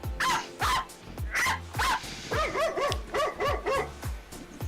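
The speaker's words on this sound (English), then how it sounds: "We got a dog loose." A loose dog barks nearby, loud and sharp, in a quick series of about a dozen yips and barks that shift in pitch, with no speech.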